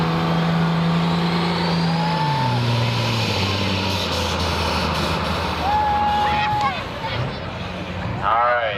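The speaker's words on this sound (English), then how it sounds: "Leon Overholzer needs to get more RPMs than that." Tractor pull vehicle's engine revving hard down the track at a truck and tractor pull event, a loud sustained roar that shifts pitch as it bogs and climbs, with crowd noise and an announcer talking over it.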